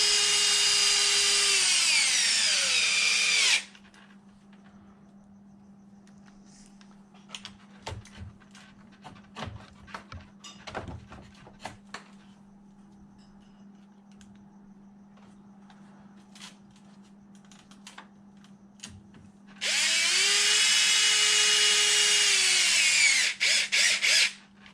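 A power drill drives screws into a Losi Super Baja Rey RC car body, with two loud whirring bursts at the start and end. Quieter clicks and handling noises fill the gap between them, and a low hum runs throughout.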